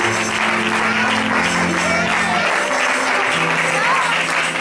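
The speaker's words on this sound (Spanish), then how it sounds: "Dale palmas al Rey una vez más." Church congregation clapping for the King during a worship service, a dense continuous wash of hands under a sustained musical drone, steady and loud throughout.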